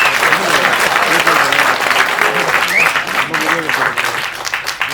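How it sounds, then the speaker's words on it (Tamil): Loud, dense audience applause at a Tamil public speech event, continuous clapping close by for several seconds with crowd voices mixed in. "இந்த படம் வெற்றி அடைய கைத்தட்டல் கொடுங்க"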